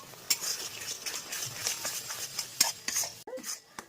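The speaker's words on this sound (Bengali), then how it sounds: "এবার এটা সুন্দর করে কষে নেবো" Spices with chilli powder sizzle in a hot pan while a spatula stirs and scrapes, with quick metallic clicks and scuffs coming in an uneven rhythm.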